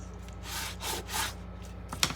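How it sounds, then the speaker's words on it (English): Cardstock folded along a score line and creased firmly for a Halloween treat bag, giving a few soft rubbing, scraping strokes close by with a sharper crinkle at the end. "Okay, fold on that score line. And give it a good crease."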